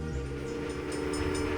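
Train in the railroad strategy game Railway Empire, a steady rumbling rail hum with a tonal whistle-like drone running continuously, moderately loud with no talk.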